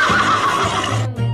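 A horse neighs loudly and close up in one short, shrill whinny that quavers and then cuts off abruptly, heard alone.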